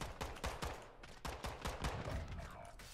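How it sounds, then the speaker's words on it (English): Rapid gunfire in a Call of Duty match, sharp bursts of shots cracking repeatedly in close succession over a busy game mix, loud and near with no pause between volleys. "Oh, they're shooting me again."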